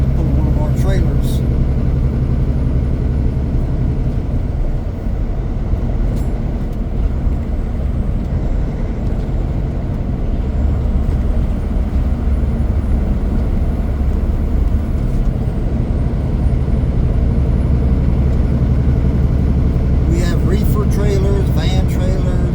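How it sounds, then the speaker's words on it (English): On the Parks Highway in Alaska, a truck pulls a company trailer while a constant loud road and engine rumble fills the cab, with people talking over it. "He's pulling a corporate trailer."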